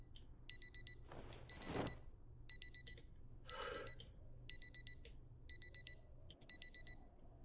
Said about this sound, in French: qui c'est qu'il y a une montre qui sonne, là?